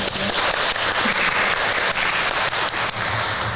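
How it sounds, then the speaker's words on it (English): An audience at a podcast event claps loudly and continuously, a full, steady burst of applause with a few sharper individual claps standing out. "Round of applause."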